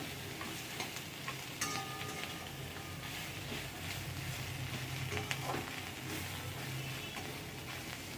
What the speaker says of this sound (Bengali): এবার আমি কাতলা মাছের মাথা ভেজে রেখেছিলাম সেটা দিয়ে দেবো মশলাটার সঙ্গে ভালো করে